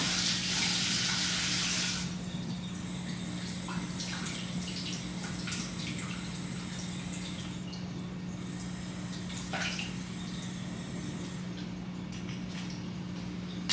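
Hot water pours steadily into a cup for iced coffee in a home kitchen, a continuous splashing stream that is loudest for the first two seconds and then settles into a softer trickle under a steady low hum.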